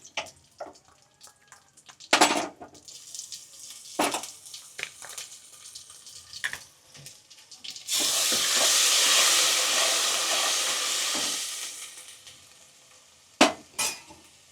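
Ginger-chili paste goes into hot oil with cumin, curry leaves and asafoetida for a Gujarati kadhi tempering: scattered clinks and stirring scrapes, then a loud steady sizzle swelling for several seconds before fading, followed by more utensil knocks.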